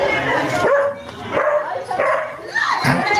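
A dog barks and yips from a played-back clip of an alleged alien encounter in Peru, several short bursts of barking spread across the moment over a busy, slightly muffled background with some voices.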